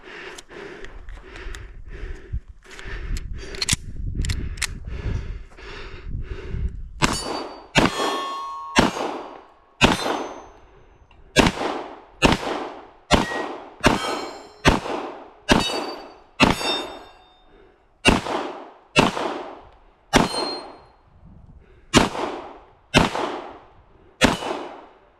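Gunshots ring out at shooting range targets. A sharp metallic clang follows each one, first quickly and irregularly, then as evenly spaced single hits for about twenty seconds.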